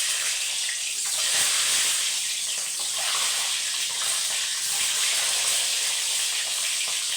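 An egg poured into hot oil in a wok sizzles with a loud, steady broadband hiss that stays continuous and close throughout, with no voices.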